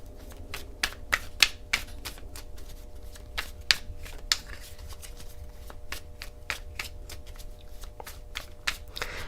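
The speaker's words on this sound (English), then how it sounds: "I know everybody hates the shuffling." Rapid, irregular snapping and riffling clicks of a deck of cards being shuffled close by, in quick bursts with no talking.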